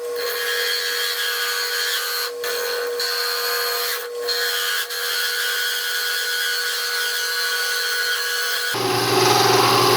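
A steady, loud power tool grinds continuously through material, with brief dips in intensity, then a sudden shift to a harsher, fuller roar near the end.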